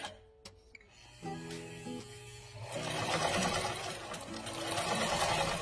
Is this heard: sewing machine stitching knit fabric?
yes